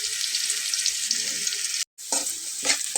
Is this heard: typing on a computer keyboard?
no